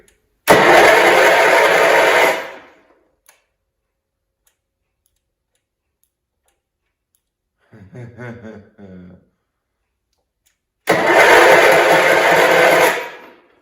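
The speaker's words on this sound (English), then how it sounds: "It does not appear that we have spark when the engine is cranking." A 1971 H1 140 tractor engine cranks without catching in two loud bursts of roughly two and a half seconds each, separated by a long quiet gap with a short mechanical rattle in between.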